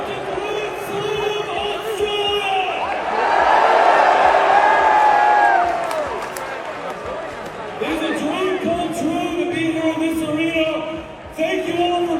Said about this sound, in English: AEW President Tony Khan was booed at the show